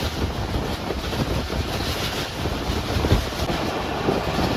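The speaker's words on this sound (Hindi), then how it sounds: "रेलवे स्टेशन को बहुत ज़बरदस्त रफ्तार में क्रॉस की है 33 हमने।" Onboard the Pak Business Express 33UP from Karachi to Lahore as it passes a railway station at high speed: a loud, steady roar of rushing wind and rumbling rail noise with no pauses or talking.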